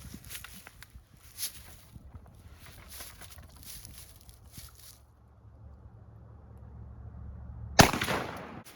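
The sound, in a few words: gunshots from a 28-inch modified 1148 shotgun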